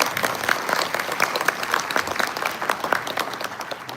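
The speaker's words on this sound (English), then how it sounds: "clap your hands if you think as a community we will become even stronger from it." A crowd at a Lunar New Year mask-changing show claps its hands steadily and energetically throughout, a dense wash of overlapping claps with no pauses.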